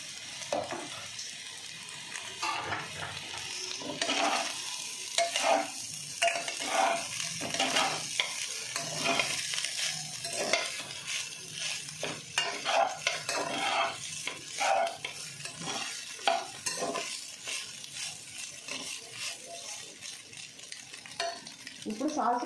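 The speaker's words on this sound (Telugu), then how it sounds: "ఇప్పుడు అన్నం వేసుకుందాం." Cooked rice for spicy chicken fried rice is stirred in a hot pan, a continuous sizzle and fry broken by repeated scraping and clanks of a spatula against the pan, with no speech.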